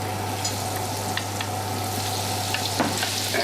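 Tempura vegetables deep-frying in oil heated to about 180 degrees, a dense, continuous sizzle with small crackles and a steady low hum underneath. No talking.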